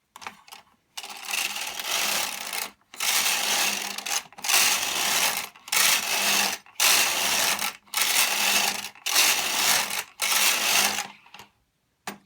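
A Bond knitting machine works rows of a fairisle pattern: the carriage makes about seven loud, even whirring passes, each lasting roughly a second, separated by short pauses, with no voices.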